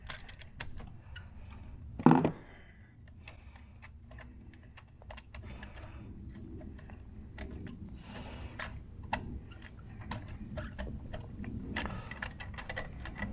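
A socket wrench loosens a spark plug on a 2015 Mini Cooper F56, giving a rapid run of faint ratcheting clicks close by, with one sharper crack early on as the plug breaks free.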